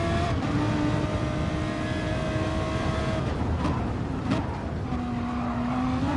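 Race cars lapping in a sim-racing pro-am endurance event at Spa, engines droning steadily and close with shifting pitch as cars run nose to tail, a continuous wash of motor noise throughout.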